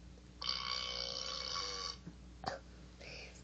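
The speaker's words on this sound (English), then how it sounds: "This is Burp." A single drawn-out burp, loud and close for about a second and a half, followed by a couple of short throaty clicks.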